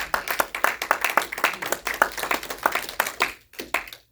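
A church congregation applauds during a sermon, brisk, fairly close hand claps in a lively burst that thins out and stops near the end.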